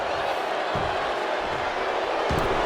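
Arena crowd noise from a wrestling match in the WWE 2K24 video game, a steady broad roar of spectators with a couple of low thuds underneath, no clear speech.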